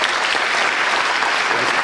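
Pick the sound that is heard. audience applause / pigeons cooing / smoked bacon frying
audience applause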